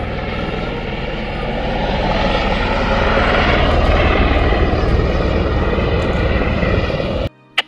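A helicopter flies over the coastline along the Great Ocean Road near Melbourne, Australia. Its rotor and engine make a loud, steady, close roar that swells slightly and then cuts off abruptly near the end.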